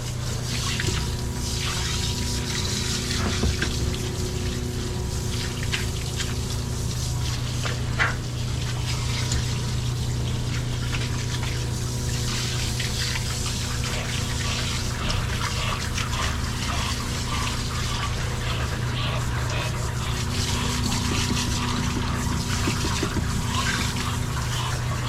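Tap water runs in a steady, unbroken rush while someone rinses their face at a sink, filling the whole stretch with continuous splashing flow and no talking.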